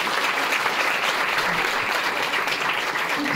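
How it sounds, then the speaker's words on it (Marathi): An audience at an English-medium school parenting talk claps for the guest speaker, steady dense applause held at full strength from start to finish, close and loud with no speech over it. "एकदा सरांसाठी जोरात टाळ्या दिल्या पाहिजे"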